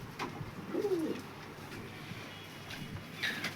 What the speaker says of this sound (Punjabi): ਨਿਗਾ ਮਾਰ ਲਓ ਸਾਰੇ ਕਬੂਤਰਾਂ ਦੇ